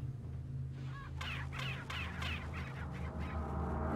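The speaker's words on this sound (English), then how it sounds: "The chickens have been spooked once more." Spooked chickens clucking in Resident Evil 4, a cluster of several short squawky calls in quick succession over a low game ambience hum.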